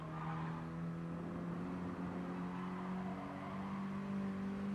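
Race car engine in Gran Turismo 7 during a Mini Cooper Cup race at Dragon Trail Seaside, a steady loud drone with tire squeal as the car brakes hard to avoid a collision, no talk.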